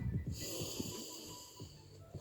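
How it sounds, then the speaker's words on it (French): Slow, deep breaths drawn and pushed from the belly during a yoga session at home, heavy airy inhales and exhales close by with a snorting edge, alone without talk. "Prends des grandes respirations avec le ventre."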